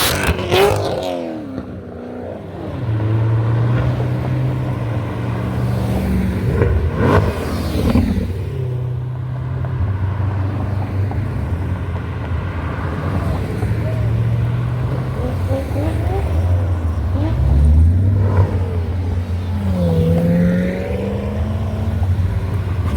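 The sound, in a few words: Corvette sports cars driving past in a parade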